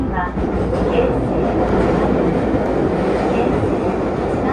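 A Keisei 3000 series limited express train bound for Narita Airport runs between Keisei Funabashi and Keisei Tsudanuma, heard from the front as a loud, continuous rumble with rhythmic rail clatter throughout.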